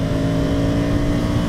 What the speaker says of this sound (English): Let's ride a motorcycle.